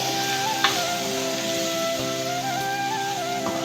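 An onion, tomato and fenugreek leaf mixture for a field bean curry is stirred in a pan, giving a steady soft sizzle and faint scraping under a constant tonal background hum.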